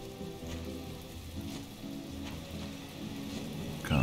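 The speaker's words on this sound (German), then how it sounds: "Es regnet Strömen." Steady heavy rainfall in the video game My Time at Portia, hissing continuously over a low background hum, with no voices, growing slightly louder at the very end.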